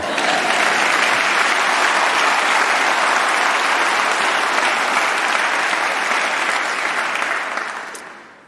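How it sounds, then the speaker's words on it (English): Audience at a university convocation giving a round of applause for a postal worker, loud, full clapping that holds steady for several seconds, then fades out at the end. "Let's give that postal worker a round of applause."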